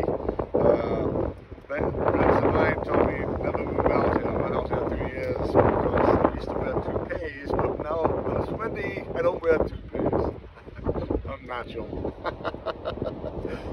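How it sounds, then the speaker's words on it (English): Strong wind at the beach buffets the microphone in gusty rumbling blasts while a person talks over it outdoors. "it's windy"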